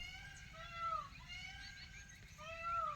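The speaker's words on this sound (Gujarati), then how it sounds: "તો જો મોરલા કેવા બોલે સાંભળો" Peacocks call several times in a village countryside setting, giving faint, distant, falling meow-like cries over a low, steady outdoor background.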